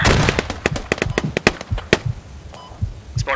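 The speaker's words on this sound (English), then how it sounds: "there's a bunch of gunfire" Rapid bursts of gunfire in the military shooter game Squad, a dense string of sharp cracks and pops at close to medium range, loud and irregular with no talking.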